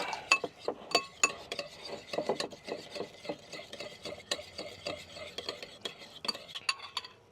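Brown sugar stirred into an oyster sauce mixture, a spoon scraping and clinking steadily against the bowl in quick repeated strokes, close and fairly quiet, with no voices.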